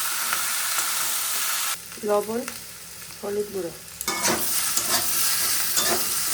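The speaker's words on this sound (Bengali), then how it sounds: "সব সবজিগুলো ভাজা হয়ে গেছে" Kohlrabi and potato pieces fry in a pan with a steady, close sizzle, broken by a stretch where someone speaks over it before the hiss and stirring scrapes return fuller.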